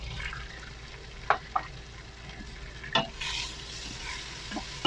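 Masala spices of salt, chilli powder and turmeric fry in a pan while being stirred, a low steady sizzle with a few scraping and knocking stir sounds, fairly faint and close.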